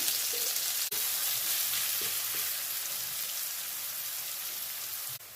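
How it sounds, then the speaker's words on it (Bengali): Chopped onions with a pinch of salt frying in hot oil over whole cumin seeds, a steady close, hissing sizzle with a few faint clicks and no talk. "পেঁয়াজটাকে ভেজে নেবো আমি লাল লাল করে"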